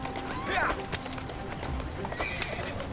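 Game horse from Assassin's Creed Syndicate galloping with clip-clop hooves and a brief whinny, set in a street scene with steady background noise; a voice talks over it.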